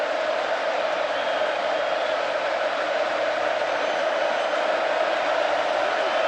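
A steady roar of a stadium crowd at an Alabama versus Texas A&M college football game, a dense, continuous wash of voices and cheering holding at a constant loud level.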